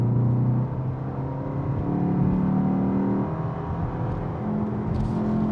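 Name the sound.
car engine accelerating in low gear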